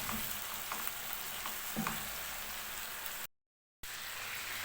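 Chicken sizzles and crackles steadily in a pan as it is flipped, with a bright frying hiss broken by a few soft stirring knocks and one brief dropout.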